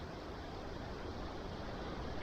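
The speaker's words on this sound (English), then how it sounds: "The water coming down off there" Water runs down a hillside in the Lost Valley of Glen Coe, a steady, even rush of noise with no voices.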